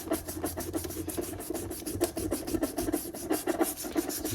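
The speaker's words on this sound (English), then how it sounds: "just to scuff this up a bit so that the epoxy has something to stick to." A plastic shifter bezel from a Jeep JK is scuffed by hand to prepare it for two-part epoxy, giving soft repeated rubbing strokes in a steady back-and-forth rhythm, close and quiet.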